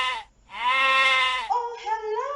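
Sheep on a farm bleating loudly in two long, wavering calls, the first sustained and the second shorter and shakier, close to the listener with no voices over them.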